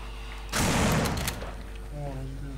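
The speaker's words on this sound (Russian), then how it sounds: "А ну пробуй выстрелить один раз в деревяшку." In the zombie video game No More Room in Hell, a gun is fired at a wooden plank: a sudden loud, harsh blast with a short rumbling tail, followed by quieter voices in the background.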